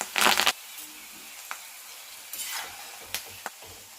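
Asafoetida, turmeric and curry leaves dropped into hot oil for a carrot pickle give a sharp, loud sizzle for half a second, followed by softer intermittent sizzles and a few spoon clicks against the pan.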